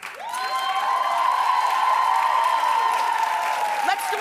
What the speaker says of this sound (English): Clap if you like it, too.